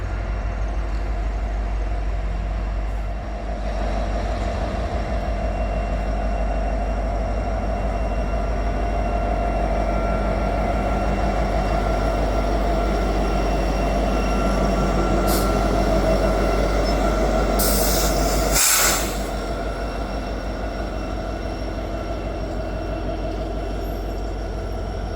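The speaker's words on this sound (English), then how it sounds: "we did catch one more train at Newport, and the locomotive leading it was a familiar one" A long freight train rumbles past up close at Newport, a loud continuous roar of engine and wheels with some screeching squeals partway through.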